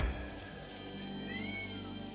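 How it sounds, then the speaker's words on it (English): A cat meows once, a drawn-out rising-and-falling cry, faint against a low steady hum, with no talking. "Sorry if you hear my cat in the background."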